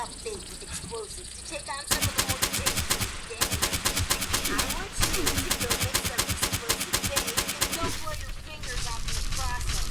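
Rapid bursts of automatic gunfire and explosions in the video game Fallout 76, dense rattling volleys that start and stop in long stretches, with a voice speaking intermittently.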